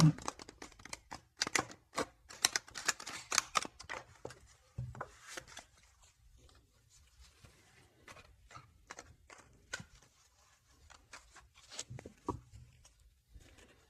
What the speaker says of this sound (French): Je vais faire un petit peu de bruit pour bien mélanger les cartes.